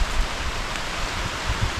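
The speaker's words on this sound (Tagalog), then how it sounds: "kahit malakas ang ulan, hindi siya maingay" Heavy rain falls on a nipa palm thatch roof in the countryside, a steady soft hiss with muted low patter and no voices.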